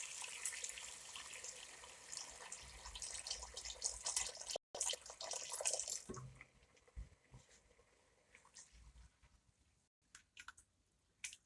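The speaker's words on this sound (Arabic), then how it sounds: "وننزل بقى بالميه السخنه بتاعتنا كده" Hot water pours into a pot of rice in a steady rushing stream for several seconds, then stops, leaving a few faint clinks and drips in near quiet.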